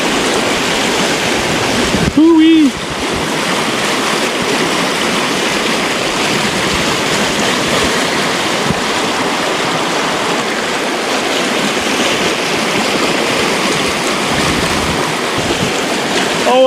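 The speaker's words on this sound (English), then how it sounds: "There's the creek." A California creek flows with a continuous broad rushing wash of water, loud and near, steady throughout, with a short vocal sound briefly cutting in early on.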